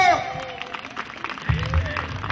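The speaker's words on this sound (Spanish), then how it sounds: "fuerte el aplauso." A rodeo crowd at a Mexican jaripeo applauds in a loose, moderate wash of clapping and crowd noise, with voices talking over it and a low hum near the end.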